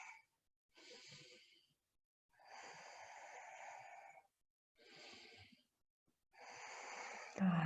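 Slow, deep breaths during a vinyasa yoga pose: several long airy inhales and exhales separated by short pauses, close and fairly quiet.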